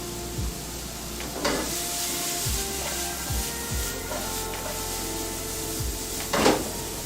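Quesadilla fillings seasoned with salt and pepper sizzling in a hot pan, a constant close frying hiss broken by occasional utensil clacks and pan knocks.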